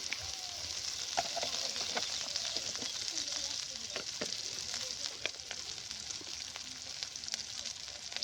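Ginger-garlic paste dropped into hot oil, a bright steady sizzle with scattered clicks and pops from a spoon against the pan, close-up and continuous, with faint background noise but no clear speech.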